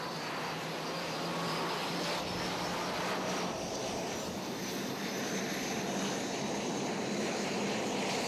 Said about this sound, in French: les avions reprennent vie. Les moteurs respirent